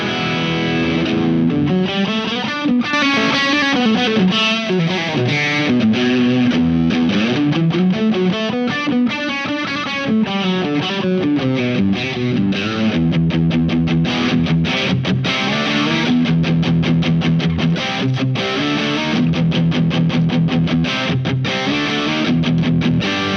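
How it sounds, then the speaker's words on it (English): Telecaster electric guitar played through a Visual Sound Jekyll & Hyde Ultimate Overdrive V1 distortion pedal, a continuous loud distorted riff with sustained chords and quick picked notes, steady and up close with no talking. "Prefer the distortion on the silver one with the telly."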